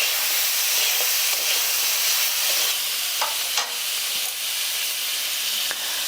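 Vegetables fry in ghee in a pan with a loud, continuous sizzling hiss and a few small stirring knocks, steady throughout with no talking.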